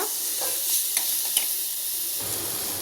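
Asafoetida and spices sautéing in a little oil over low heat for amla rasam, a gentle continuous sizzle with faint clicks of stirring, close and with no talk.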